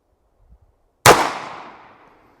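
One .45 ACP pistol shot with 230-grain FMJ ammunition at a penetration test: a single sharp, loud crack up close, trailing into a decaying echo over about a second, preceded by near silence.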